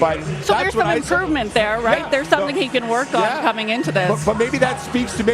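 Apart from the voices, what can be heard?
No distinct noise like a dog, phone or traffic.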